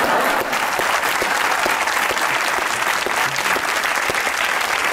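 Studio audience applauding in a comedy talk-show setting, steady dense clapping that holds loud and even for the whole stretch with no voices over it.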